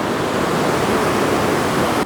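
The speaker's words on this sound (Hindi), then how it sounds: "ये देखिए धौली गंगा का जल आ रहा है और इस तरफ से अलकनंदा नदी का जल आ रहा है" The Dhauli Ganga river flows loudly into the Alaknanda at its confluence, a dense, continuous roar of rushing mountain water, close and unbroken.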